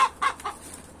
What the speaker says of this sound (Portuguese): Um frango aqui, galera.